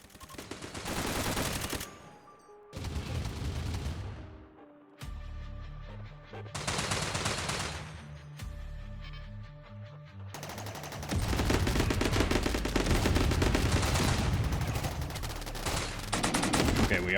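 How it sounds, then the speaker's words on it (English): Bursts of mech gunfire in a Rimworld raid: rapid machine-gun volleys and fusillades come in separate clusters, then merge into a long sustained barrage near the end. "He's firing over the mountain at me."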